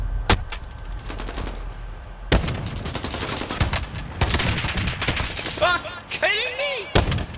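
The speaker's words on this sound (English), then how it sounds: "I'm getting shot from both sides" Rapid bursts of automatic gunfire and single shots in the Call of Duty: Modern Warfare video game, loud and close, with a player's voice talking at points in between.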